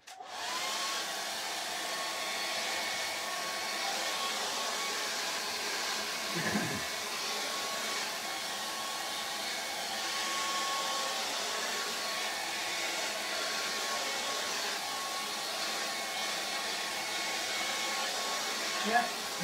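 A hair dryer blows steadily on a painted underpainting, a loud continuous airy whoosh with a constant motor whine that holds for the whole stretch, with a brief low bump partway through.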